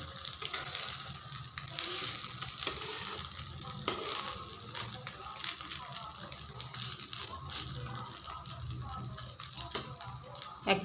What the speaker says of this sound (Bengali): এক পিঠে ভাজা হয়ে গেলে আবার উল্টে আরেক পিঠে ভেজে নিব